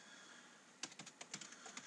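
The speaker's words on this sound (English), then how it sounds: "I just use Control A on the keyboard and put in whatever" Quick, light keystrokes tap on a computer keyboard, a short burst of irregular clicks following a brief quiet pause.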